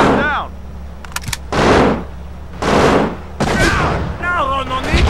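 Gunfire and a grenade blast in the video game America's Army on Xbox come as several loud, broad bursts of shots separated by short gaps, with a voice speaking over the combat.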